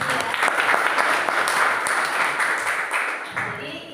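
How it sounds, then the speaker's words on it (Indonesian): A classroom of students claps together in a lively burst of applause that stays steady and then fades slightly toward the end. It sounds close and fills the room. "Tepuk tangan buat kalian"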